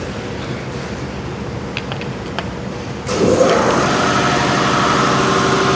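In a garage, an air compressor kicks on partway through, its steady loud motor hum rising from a quieter background and running on continuously.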